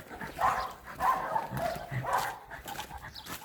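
A dog barks outdoors while out on a walk, giving three or four moderately close bursts spaced about half a second to a second apart, with a faint background hiss between them.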